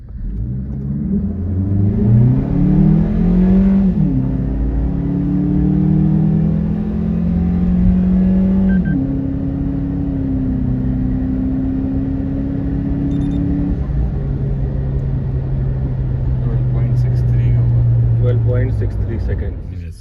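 A Suzuki Jimny with an Anrot turbo kit accelerates hard up a slightly inclined paved road with traction control off. The engine note climbs loudly through several gear shifts, each rise followed by a drop, then holds a steadier drone.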